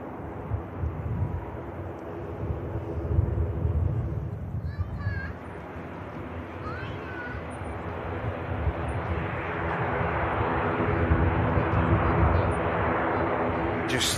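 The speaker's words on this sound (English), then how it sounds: "Just hear the Dash 8 of Luxair as well. Very prevalent sound." A Luxair Dash 8 turboprop at Manchester Airport makes a loud, broad engine rumble that stays constant and swells slightly toward the end, with a few bird chirps in the middle.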